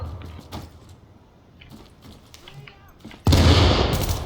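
A loud explosion erupts in a PvE shooter video game, a sudden sustained blast that follows a stretch of quieter scattered game noises and fills the final second.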